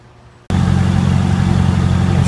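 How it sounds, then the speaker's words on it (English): A 1965 Ford Mustang convertible's 302 V8 starts up and settles into a steady, loud, deep idle with a low rumbling throb that continues without a break. "A shot of the back end with the engine running. Sounds nice."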